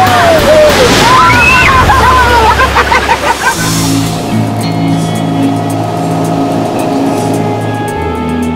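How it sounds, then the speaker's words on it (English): A beach wave washes in and sloshes around bare feet while people talk and shuffle in the surf, with a low boat engine humming steadily once the wash settles. "Here comes a wave, ready?"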